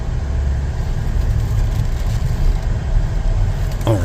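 Inside a Chevrolet Traverse Premier Redline Edition sitting in reverse, the engine idles with a steady, close, low rumble, and a brief soft chime comes near the end.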